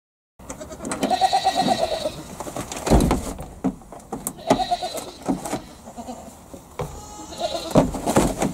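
Goats on a farm bleat repeatedly and loudly from close by, with short quivering calls arriving in irregular bursts and other animal noises mixed in.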